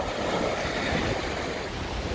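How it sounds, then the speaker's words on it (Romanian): Steady roar of surf and waves breaking on the shore at Lido di Jesolo, Italy, broad and noisy, with wind buffeting the microphone and no voices. "Pe fundal se aud valurile cum se sparg."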